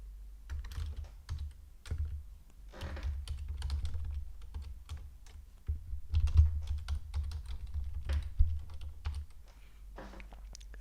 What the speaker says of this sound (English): here you need to type in the email address that you signed up with Cloudflare